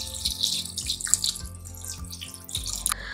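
Water is poured into a cooking pot for a green papaya buttermilk curry (moru curry), a close, uneven splashing and gurgling stream with small drips, heard alone without speech.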